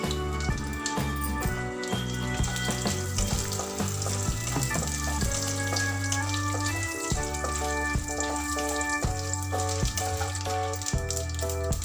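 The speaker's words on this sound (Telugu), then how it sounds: "ఆయిల్ హీట్ ఎక్కిన తర్వాత మనం తీసుకున్న ఆవాలు, మినపప్పు, జీలకర్ర వేసేసుకున్నాము" Mustard seeds, urad dal, cumin and chana dal fry in hot oil for palak rice, with a continuous crackling sizzle running under loud melodic background music.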